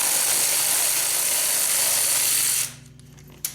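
A ratchet wrench clicks rapidly and steadily up close while breaking loose a bolt on a dirt bike during an engine oil leak repair, then stops abruptly, leaving near silence with a faint tap at the end.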